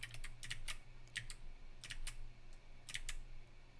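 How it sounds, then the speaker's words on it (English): Keys clack on a programmable computer keyboard in quick, quiet bursts of several strokes with short pauses between them, close up and with no talking. "I changed my keyboard, like it's a programmable keyboard."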